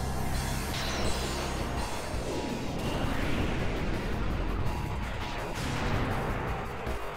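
The Nova spell from Final Fantasy X detonates as a huge game explosion, a dense continuous roar with rumbling blasts that fills the whole stretch at high volume, no voices.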